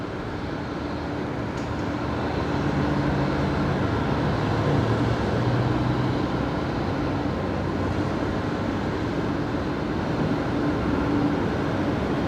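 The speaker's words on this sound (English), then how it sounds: "1966 coming in now from Newcastle tonight. This is the all whites Embraer, the ghost Embraer, some call it." An all-white Embraer jet arrives at Brisbane Airport at night, a steady broadband engine roar that holds at an even level throughout, with a faint low hum beneath.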